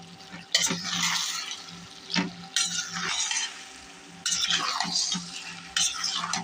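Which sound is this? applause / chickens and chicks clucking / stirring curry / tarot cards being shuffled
stirring curry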